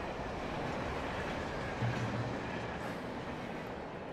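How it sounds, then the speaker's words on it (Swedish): A train rumbles past in the horror game Alan Wake on rusty rails: a broad, steady roar of rail noise with faint clickety-clack, heard fairly close and alone. "Tåg!"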